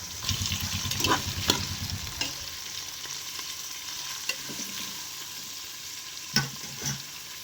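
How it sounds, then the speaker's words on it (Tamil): Onions and green chillies sautéing in a pan for South Indian tomato rice, a steady soft sizzle with occasional stirring scrapes and clinks close by, no talking. "பெரிய வெங்காயம் போட்டு கொஞ்சம் பொன்னிறமாக வதக்குவோம்"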